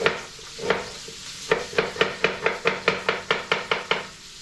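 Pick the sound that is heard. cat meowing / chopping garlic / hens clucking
chopping garlic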